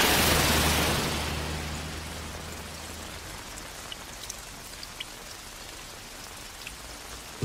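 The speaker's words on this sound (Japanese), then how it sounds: "すげえ雨。" Heavy rain pours down steadily as a dense, even hiss with scattered drop pops, loudest at the start and easing to a constant wash; no one speaks.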